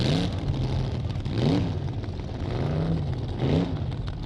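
Hot rod drag racing cars at the 1962 Winternationals, engines revving in repeated rising bursts about every two seconds over a steady rumbling background, at moderate distance.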